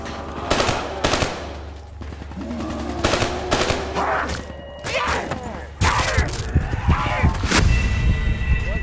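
Artillery bombardment in Call of Duty Black Ops 3, with loud booming impacts and rattling gunfire crashing in repeated bursts, ending in an intense barrage of blasts.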